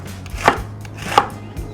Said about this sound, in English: The best part is take food processor